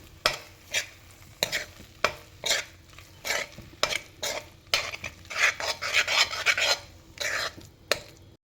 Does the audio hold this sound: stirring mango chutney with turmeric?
yes